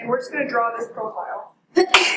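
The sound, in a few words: sneeze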